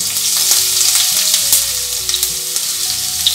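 Urad dal, chana dal and green chilli tempering in hot oil for coconut sevai, a loud continuous crackling sizzle with stirring, under a backing melody.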